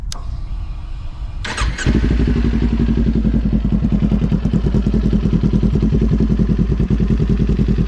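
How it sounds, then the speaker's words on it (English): A Kawasaki Ninja 400 sport motorcycle engine cranks and catches, then settles into a steady, loud, close idle with a fast rhythmic putter. "I can go ahead and turn on the bike and show you what that sounds like"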